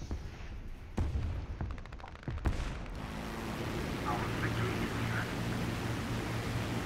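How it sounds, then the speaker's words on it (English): A War Thunder explosion in the middle of aerial combat: a few sharp booms near the start, then a steady roar of engine and wind noise with no further blasts. "It was a good blow up. Boom, right in front of us."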